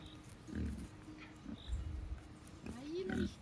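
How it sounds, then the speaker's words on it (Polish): Pigs on a farm grunt and snort after waking, several low, rough calls spaced irregularly at a moderate distance, with one squealing rise near the end. "Świnki się zbudziły, bo rano jeszcze spały."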